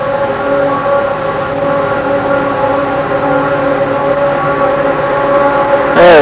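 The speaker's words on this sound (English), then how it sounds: "They're really pushing now. There's a lot of weight there behind that train." A heavy ore train being pushed by locomotives, with a loud, sustained tonal drone of engines and grinding running steadily throughout and swelling slightly at the end.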